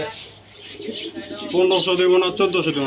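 A pair of red Bombay pigeons cooing close by in repeated soft throaty rolls, mixed with someone talking.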